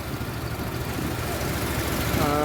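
A motor boat engine drones steadily on the Saryu river in Ayodhya, a constant low rumble that stays close and loud from start to finish.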